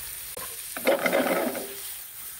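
Mushrooms fry in a pan with garlic, onion and red chilies, giving a close, brief burst of sizzling and stirring that swells for about a second and then fades.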